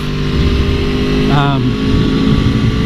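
A 2017 Aprilia Tuono V4 1100 Factory motorcycle ridden hard on a street gives a loud, steady engine drone mixed with wind rush, sustained and close throughout.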